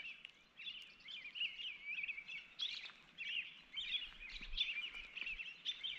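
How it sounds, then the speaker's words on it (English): Small birds chirp and tweet continuously at dusk in a busy, high-pitched chorus, fairly faint and a little distant, with no voices. "Hear all the little birds getting in their last tweets for the night."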